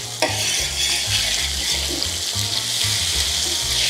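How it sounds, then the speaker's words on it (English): A sofrito of onion, garlic and tomato paste frying in a paella pan, loud and close, with a dense continuous sizzle and rhythmic scraping stirs throughout and no talking. "So let me add now a little bit of the sofrito, which is onion and um, garlic and a little bit of the tomato paste."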